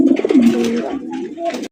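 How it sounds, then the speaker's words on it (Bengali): King pigeons cooing at a bird market, a close, loud rolling coo in a short burst with a second softer coo after it, with a hint of voices nearby. "লাল কালারের কিং কবুতর।"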